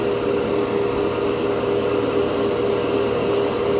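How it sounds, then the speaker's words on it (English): An airbrush sprays Mr. Clear Color GX candy color paint in a steady, loud hiss that runs without a break, with brief breaks in the top-end hiss near the end. "I actually haven't sprayed this one yet, so this is the first for me too."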